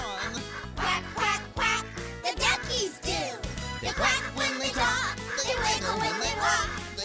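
Cheerful children's farm song in which singing voices imitate ducks with rhythmic quacks over a full, steady band accompaniment, the quacks repeating throughout.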